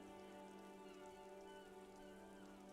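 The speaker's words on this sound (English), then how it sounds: "All around you, rain falls on the great city." Steady rain falls on the great city in the video game Disco Elysium, a dense, unbroken hiss and patter that stays even throughout, quiet and with no voices.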